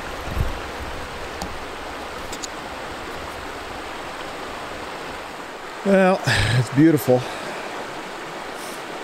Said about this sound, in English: you can hear the water in the background there.